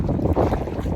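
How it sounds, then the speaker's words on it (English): Strong gusty wind buffeting the microphone in a sheltered pocket of rocks on a beach at Kiholo Bay, Hawaii, a loud continuous rumble with no voices. "It's super windy, so I'm trying to hide you."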